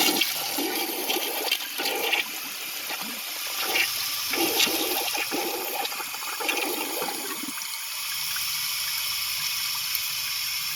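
A 2001 American Standard Cadet toilet flushing, a loud rushing swirl of water that drains down and gives way to the quieter hiss of the tank refilling.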